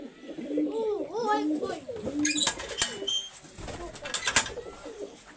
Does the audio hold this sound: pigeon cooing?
yes